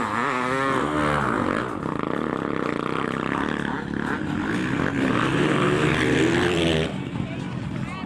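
Motocross bikes racing on a Boxing Day track in Bermuda, a loud continuous engine roar with rising and falling revs as the bikes pass, with a commentator's voice running over it throughout.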